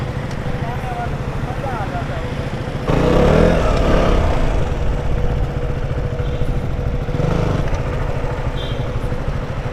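A BMW motorcycle rides along a road in Chandigarh, its engine a steady, smooth hum that swells louder midway through along with wind and road noise, while a rider talks over it.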